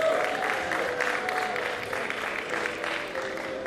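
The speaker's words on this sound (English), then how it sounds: "Clap for yourself." Audience at a swearing-in ceremony clapping in a sustained, moderately loud patter, with a faint tone and murmured voices running beneath.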